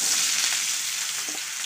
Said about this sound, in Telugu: పొటాటోస్ వేపుకున్నాం ఫ్రెండ్స్, ఫ్రై చేసుకుందాం